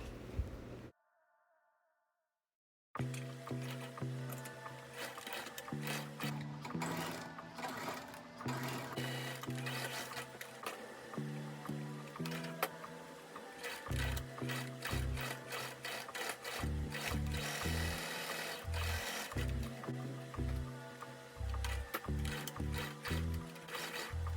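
Sewing machine stitching across the tops of fabric pockets on a card pouch keychain, steady close mechanical whirring in repeated runs with brief pauses, after a short silence at the start.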